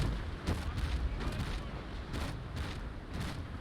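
Broadside of ship cannons firing from the decks of a sailing warship in the Naval Action video game, heard as a series of muffled booms in an uneven rhythm over a constant rumble of sea and wind, with no voices.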